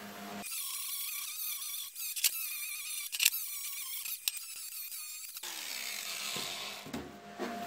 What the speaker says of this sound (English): we're gonna go ahead and grind that and prep this just so we don't get any slag inclusions or porosity